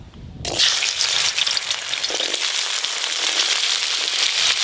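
Cut taro pieces hit hot mustard oil in a wok with a sudden loud sizzle, then a steady, dense frying hiss that carries on close up with no talk.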